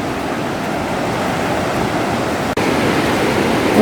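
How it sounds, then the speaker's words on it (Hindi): Loud, steady roar of a fast-flowing river at the Rudraprayag confluence, heard close from a cremation ghat on the bank, continuous broadband rushing with no speech. "नदी का प्रवाह आप देख सकते हैं, शोर आवाज़ कितना तेज़ है।"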